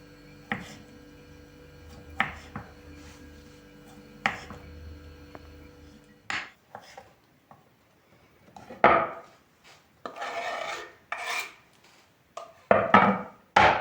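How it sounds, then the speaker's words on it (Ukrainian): A knife dices boiled jacket potatoes on a cutting board, with irregular sharp chopping knocks, sparse at first, then quicker and closer together, heard alone and near. "Із картоплин, відварених в мундирах, теж нарізаємо кубиком."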